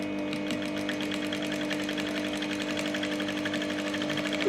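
A sewing machine stitches a square sleeve for a beginner's garment, its steady rapid needle chatter running continuously and fairly close, with a slight bump in loudness right at the end.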